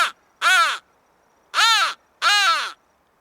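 Wood Wise crow call blown by a person to imitate a nearby crow: three loud, harsh caws, the last two closer together, each clear and isolated against silence.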